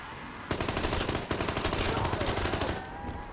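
Rapid automatic gunfire from the MG08 machine gun in Black Ops 3 Zombies on the Origins map, bursting in loud and sustained with one brief break, dense rattling shots dominating throughout.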